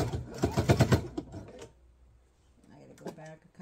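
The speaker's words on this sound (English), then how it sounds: "I'm going to come up the side so that I get this all sewn at the end of my fabric." A sewing machine runs in a short burst while stitching fabric for an apron, a rapid close mechanical chatter that stops, followed by quieter handling sounds and a brief spoken remark.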